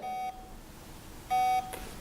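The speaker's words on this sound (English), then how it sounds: "So each beep corresponds to a switch." Two clean electronic beeps from an Emego assistive switch, each a short steady tone separated by about a second of quiet, fairly close and alone.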